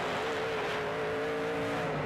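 NASCAR Canada Series stock cars race around the oval at Sutherland Automotive Speedway, a steady, droning engine roar with a sustained tonal whine, heard from a distance without voices.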